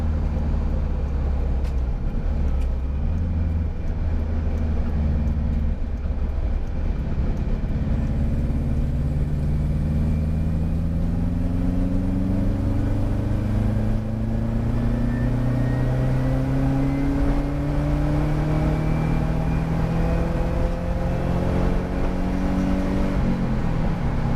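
Turbocharged Subaru Loyale pulling hard on the road, its engine climbing steadily in pitch through repeated rises, loud and continuous from inside the rusty cabin with no talk.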